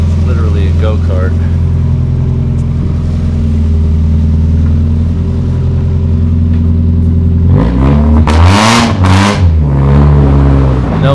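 A go-kart powered by a Mazda Miata engine, run with no muffler, drones loud and close at a steady idle, then revs hard in several raw bursts toward the end.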